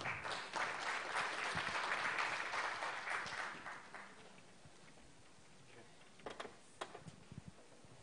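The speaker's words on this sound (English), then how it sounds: "Give a big round of applause." Audience applause at a 2018 conference, steady dense clapping from a large crowd that fades out over several seconds, leaving a few faint scattered claps and room noise.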